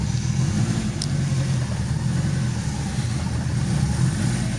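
A Subaru Impreza GT engine at operating temperature hums steadily with a low, even drone as the car pulls away, loud and close with no rise or break.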